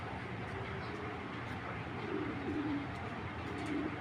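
Giribaz pigeons cooing softly amid steady background noise, low murmuring coos rising faintly in the middle and near the end, no clear speech.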